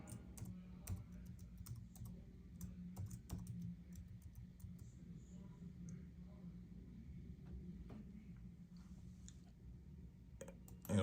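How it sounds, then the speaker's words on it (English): Someone types on a computer keyboard, a quiet scattered series of light key clicks over a low room hum, with a louder cluster of strokes near the start. "I'm just going to go ahead and type it in."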